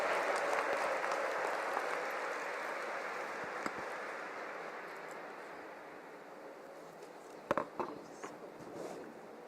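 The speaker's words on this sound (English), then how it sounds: "I just would want to hear a round of applause loudly to my ears" A conference audience at an HR conclave applauds in a sustained, dense wash of clapping that slowly thins out, with a few sharper claps near the end.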